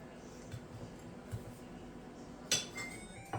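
Quiet clinks and scrapes of cutlery against plates as meat is cut at a farm Christmas dinner, scattered light taps with one sharper clink and a soft squeak in a calm room.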